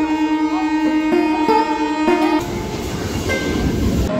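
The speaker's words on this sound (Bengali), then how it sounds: "ফাইনালি আমাদের ট্রেনটা কিন্তু 1 নম্বর প্ল্যাটফর্মে ঢুকিয়ে দিল।" A local train pulls into platform 1 at a station, loud and close, with steady horn-like tonal whines and clanking wheel hits that give way to broad rumbling noise as it comes in.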